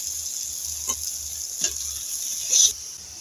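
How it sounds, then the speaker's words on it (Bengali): Chopped tomato dropped into hot oil with cumin and coriander powder gives a steady hiss of frying, with a few stirring scrapes and a brief louder burst near the end. "এবার দিয়ে দেব টমেটো কুচি।"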